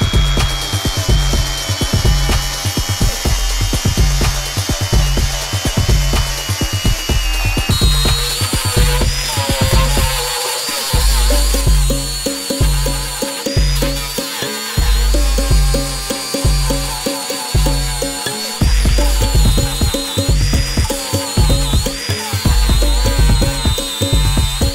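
A Stark CAG 1800 cordless angle grinder cuts metal with a coral disc across welded seams. Its loud, high whine comes in repeated bursts, with grinding rasps and short pauses as the disc bites and is lifted.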